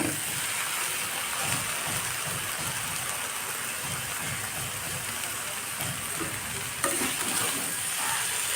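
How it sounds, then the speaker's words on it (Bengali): Potato and eggplant stir-fried with salt and turmeric in a Bengali pui-shak metuli dish, giving a steady, loud sizzle with repeated scraping stirs throughout and no talking. "দু চারবার নাড়াচাড়া করে নিয়েছি আলু বেগুন"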